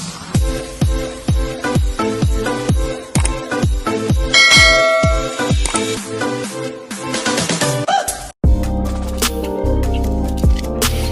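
Bright bell and chime tones ring out as a notification sound effect for a subscribe reminder, a rapid series of struck, decaying notes followed by a sustained shimmering chord, loud and clear with no talking.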